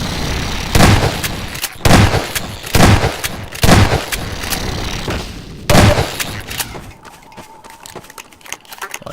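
Shotgun blasts in Half-Life 2 ring out as five loud, punchy reports at uneven intervals, each with a short tail, over a steady game-combat din that fades to quieter ambience near the end.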